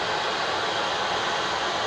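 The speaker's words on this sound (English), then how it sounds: "the roaring, hissing noise you can hear is the sulphur dioxide that's coming out of the vent" Sulphur dioxide roars and hisses out of a volcanic vent on Mt Apo, the Philippines' highest mountain, as a steady, loud, broadband rush that holds level without pause and has no voices over it.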